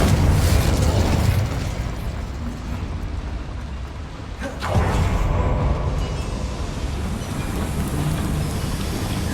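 Bombarda and Confringo spell explosions in Hogwarts Legacy blend into a loud, continuous crackling rumble inside a mine, with a sharper burst cutting through midway.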